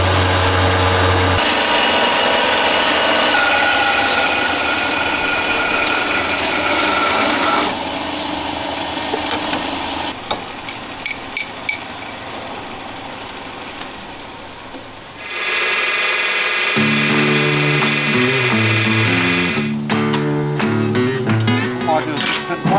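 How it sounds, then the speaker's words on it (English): A metal tube being cut to length on a workshop bench, heard as a loud, steady machine whine with a harsh grinding edge that shifts in pitch and stops briefly before resuming. "so now we'll cut those, a bit of tube at 340"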